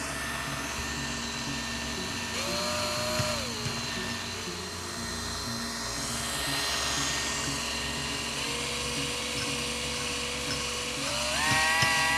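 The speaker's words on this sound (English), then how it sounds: "Let's try a drill." A steady high-pitched whine of a power drill spinning a magnet near a copper sphere runs throughout, its pitch rising and falling a few times as the speed changes.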